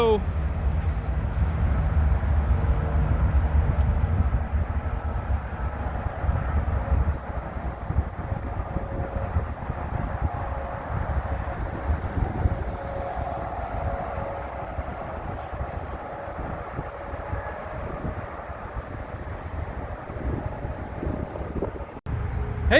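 A freight train rolls past at Canal Ridge Road with a steady, loud rumble and rattle of cars that lasts throughout, slightly easing toward the end, with a person talking over it.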